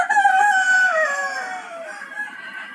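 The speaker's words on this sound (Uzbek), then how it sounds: "Mana shu tovuqlarimiz." A rooster crows loudly and close in a backyard chicken coop with tin-roofed nesting boxes, one long drawn-out call that fades away, no talking over it.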